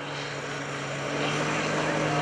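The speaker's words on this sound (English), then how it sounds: "There he goes, flying airplane slideways there" A propeller stunt plane performing at the 2015 Greenwood Lake Airshow makes a steady engine drone with sustained humming tones that swells slightly louder as it flies.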